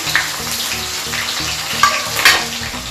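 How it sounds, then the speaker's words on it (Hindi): Chopped onions, cumin seeds and a bay leaf sizzle and crackle in hot oil as they are stirred for a gravy, a steady close frying hiss with scattered pops and no talking. "प्याज को लाल होने तक भूनेंगे।"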